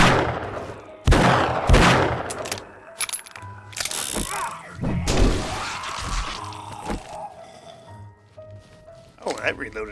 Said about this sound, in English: Oh, that reloaded real quick.